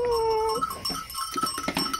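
Goats bleat in a farm pen, with a long sustained bleat up front and a cowbell clanking in repeated short rings through the rest, close and fairly loud.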